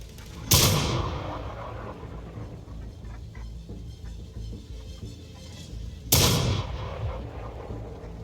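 Two loud booming artillery shots from a Sexton self-propelled gun in a World of Tanks-style video game, about six seconds apart, each a sharp blast with a long rumbling decay and no voices.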